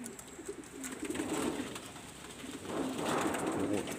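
Pigeons coo in soft, repeated low calls, swelling in two louder passages, with faint outdoor background and no talk; the birds are kept wired in.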